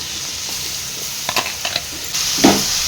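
Onions for a kuzhambu curry sauté in a pan with a low, steady sizzle, broken by a few light metallic clinks and scrapes of a spoon.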